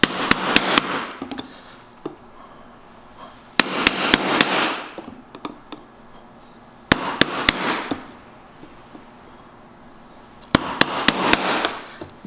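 A chisel cutting the mouth opening in the wooden base of a Japanese hand plane, heard as clusters of sharp mallet strikes followed by rasping paring scrapes, close and fairly loud, with quiet gaps between bursts.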